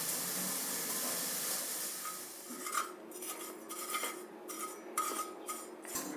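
Dill leaves dry-roast in a thick-bottomed pan over low heat, a soft faint sizzle and hiss with light scraping and stirring clinks, heard alone.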